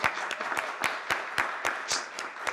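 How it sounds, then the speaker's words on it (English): A small audience at an event on African art collections claps for the Africa Basel team. The claps are sparse and distinct, with individual hand strikes spaced fairly regularly over a couple of seconds. "I think they deserve a round of applause"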